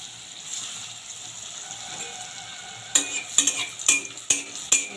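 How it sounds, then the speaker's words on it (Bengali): Koftas of young green jackfruit slide one by one into hot oil heated to low-medium. A low, quiet sizzle runs first, then sharp splashy crackles and bursts break out in quick succession as each piece drops in. "এবার একে একে কোপ্তাগুলো দিয়ে দেবো তেলের মধ্যে।"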